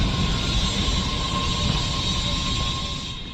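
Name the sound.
subway train arriving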